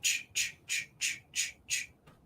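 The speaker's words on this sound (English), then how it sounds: "I could see the birds walking on the very peak of the roof. And it's crows" Crows walking along the peak of a roof give six harsh, evenly spaced caws in a steady rhythm, followed by a faint, short seventh call, with quiet background between them.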